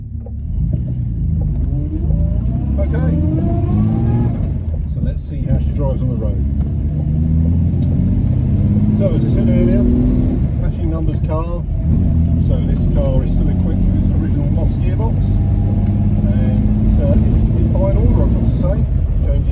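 A 1962 Jaguar Mark 2 3.4 with manual overdrive drives through gentle curves, its engine a steady, full rumble from inside the car with a voice talking over it.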